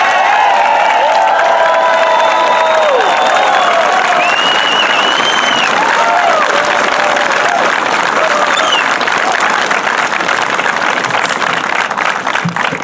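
A loud crowd applauds continuously as Honor Flight veterans board a bus, steady close clapping mixed with cheers, whoops and high shouts throughout.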